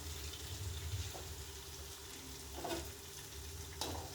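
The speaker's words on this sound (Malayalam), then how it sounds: "ഇങ്ങനെ മെല്ലെ ഇങ്ങനെ നല്ല ഇളക്കി കൊടുക്കാം കേട്ടോ" Food being stirred slowly in a pan, a steady low frying hiss with a few soft scrapes of the spoon, close and alone.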